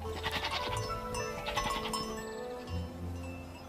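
Goats bleat repeatedly in a mountain village setting, with several wavering, nasal calls overlapping at moderate distance over a busy outdoor background.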